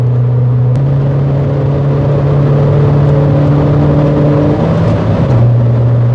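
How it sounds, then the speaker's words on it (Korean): Steady, loud engine drone with a low exhaust rumble from a 2010 Kia Forte Koup, shifting pitch briefly as the car changes gear while cruising on a highway. "그리고 지금 배기 소리도"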